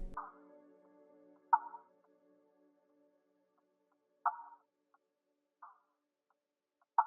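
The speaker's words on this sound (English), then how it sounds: "so I just add this Pert Loop that was made by me" A self-made percussion loop in an R&B beat plays sparse, sharp clicking hits separated by silence, with a short low tonal note at the start, dry and fairly quiet.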